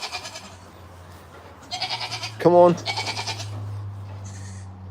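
A sheep bleats once, loud and close, with a harmonic wavering cry rising over a quiet outdoor background while a person speaks briefly around it.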